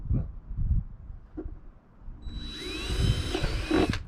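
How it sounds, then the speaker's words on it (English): Low handling thumps and muffled movement give way to a close power drill spinning up and grinding steadily through the side of a box for a couple of seconds. "Now I'm going to drill a hole in the side of the box."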